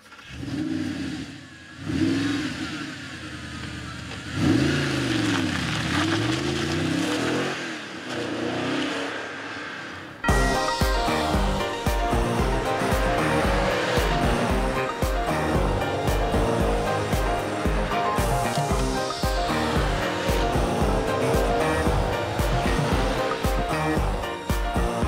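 Audi R8 V8 cabriolet driving on the road: a fairly quiet engine hum with a few rising revs for the first ten seconds, then a steady loud rush of engine and wind noise as the convertible cruises at speed.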